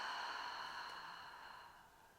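A long, soft exhale through the mouth during a hypopressive pelvic floor breathing exercise, a close, airy rush of breath that slowly fades over about two seconds with no talking.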